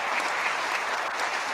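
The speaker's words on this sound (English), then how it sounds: "Wait, we got an applause." Steady applause from an audience at a 2021 state of the state address, dense and even, filling the short moment without pauses.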